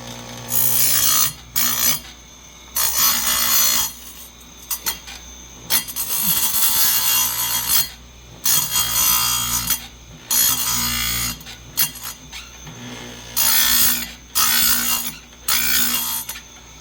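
A hand file sharpens a chainsaw chain with a specialty grind: repeated rasping strokes lasting one to two seconds each, separated by short pauses, loud and close.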